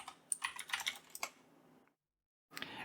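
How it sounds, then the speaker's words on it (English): Password being typed on a computer keyboard while setting up a storage node on a Synology NAS, a quick run of close, crisp keystrokes that stops abruptly, a pause of near silence, then a fresh burst of typing. "Let's type in the password."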